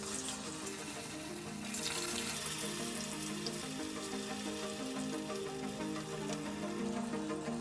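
Pempek fish cakes fry in hot oil in a pan, a dense steady sizzle and crackle with bursts of bubbling, close and fairly loud throughout.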